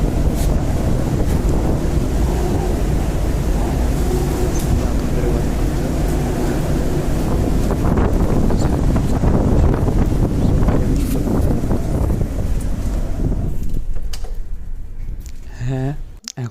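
Strong wind roaring across a ship's deck after a snowstorm, loud continuous buffeting against the microphone with a low rumble beneath, a person talking over it, then the noise drops away near the end.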